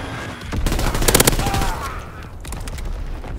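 Gunfire in a World War 2 video game, a dense rattling burst of rapid shots and explosions mixed with game effects, loud and close, easing into lower rumbling afterward.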